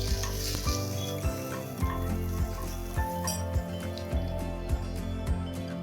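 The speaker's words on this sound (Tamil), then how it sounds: "இது ஒரு 2 நிமிஷத்துக்கு வதக்கிக்கோங்க. இப்போ இதில் சாம்பார் வடகம் சேர்த்துக்கோங்க." Sambar vadagam sizzles in hot oil in a pan as a tempering for sambar, with a steady frying hiss under repeated regular clinks of a spoon stirring against the metal.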